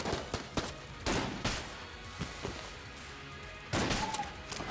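Gunfire in the video game Enter the Gungeon comes as quick bursts of shots, several clustered volleys separated by brief pauses, with no talk.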